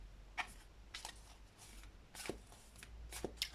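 Tarot cards shuffled by hand in a quiet room for a reading, a string of soft riffling bursts at uneven intervals, close and faint.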